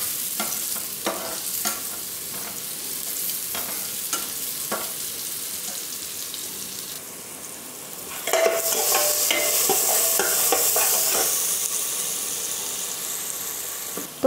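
Chopped tomato and spice masala fries in a pressure cooker with potatoes for aloo dum pulao, a close, continuous sizzle with repeated stirring scrapes that turns louder and hissier partway through, no talking.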